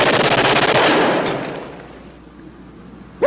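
Sustained burst of gunfire in a World War II combat drama, loud and dense at first, then fading over a few seconds with a sharp sound at the very end; no talk.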